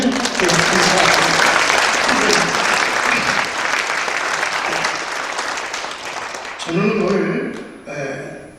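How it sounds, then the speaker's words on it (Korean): A congregation at a church thanksgiving service, held for the launch of a memorial hall project, gives dense, sustained applause that slowly fades. Toward the end a voice speaks over the last claps. "이 한 번 더 박수하시죠"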